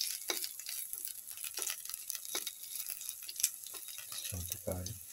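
Garlic sizzles in a frying pan with a steady thin hiss, broken by a few soft clinks and scrapes.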